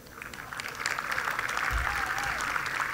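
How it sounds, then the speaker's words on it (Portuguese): Fairly faint applause from an audience at a televised Cape Verdean awards show with comedy, swelling in and holding steady for a few seconds. "Queria um salva de palmas para esse grande apresentador."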